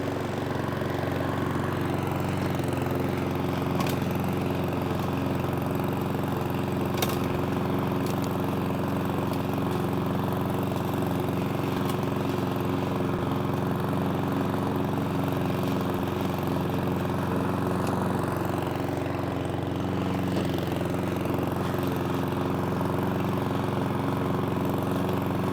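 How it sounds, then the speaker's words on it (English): Cobra MX460SPC petrol lawnmower running at a steady, loud engine drone with a low hum and constant buzz, pushed at a slow walking pace, with faint brief clicks and no talk. "Quite a leisurely, nice, slow walking pace on this mower."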